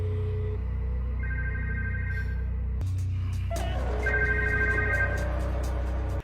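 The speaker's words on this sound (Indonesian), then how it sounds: "ponsel milik salah satu anggota dewan pun berbunyi saat Jilong menghubungi nomor tersebut." A council member's mobile phone rings in a film scene, with repeated electronic ring tones over a low, steady rumble and an abrupt shift in the background partway through.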